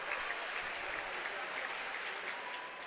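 Spectators at a state high school track and field meet clap in a steady rhythm for a long jumper's attempt, a dense, continuous crowd clap sustained throughout with a faint murmur underneath.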